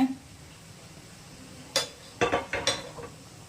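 A serving spoon and pots clank together as cooked bottle gourd and lentils are scooped into another pot: a handful of sharp metallic clinks in a quick cluster after a brief quiet stretch.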